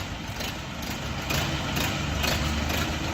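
An Orion RF404 tractor, a 40 hp four-wheel-drive machine with a four-cylinder engine, idles steadily close by with a low, even rumble and faint periodic pulsing, with no talking.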